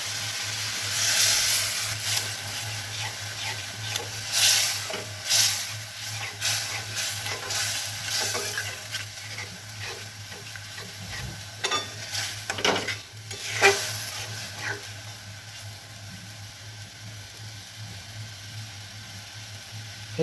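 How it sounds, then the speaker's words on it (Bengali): A spice paste for okra masala sizzles and crackles in a hot pan while a spatula scrapes and stirs it in bursts, steady frying hiss beneath a low burner hum, no voices. "এই সময় গ্যাসটা একটু ফাস্ট করে একটু ভালো করে কষিয়ে নেব, মশলাটাকে একদম কষিয়ে নেব।"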